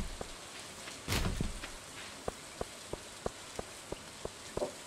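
Soft rainfall in the Stardew Valley farming game patters quietly in the background, with evenly spaced light ticks and a brief louder burst early on.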